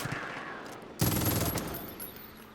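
A Far Cry 5 gun fires one sharp, rapid burst of shots lasting about half a second, loud and close against a quieter game background.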